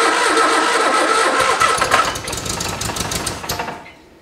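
A 1973 MG Midget, parked for over 40 years, cranks and catches, its engine firing into a loud, uneven rumble before dropping away to quiet at the end.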